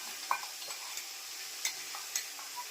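Green tomato gravy for green Surati undhiyu hitting hot tempering in a pan, giving a faint, steady sizzle with a few soft stirring clicks and taps, no talking.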